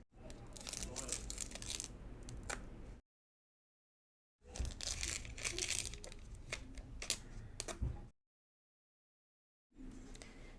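Washi tape is peeled and pressed into a paper planner, giving close crinkly tearing and rustling in three bursts separated by dead silence.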